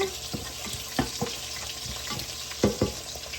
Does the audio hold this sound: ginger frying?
yes